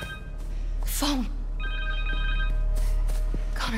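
A cell phone rings in Marvel's Spider-Man 2, two bursts of a bright electronic ringtone trilling with a pause between, set against a low ambient game score and faint background effects.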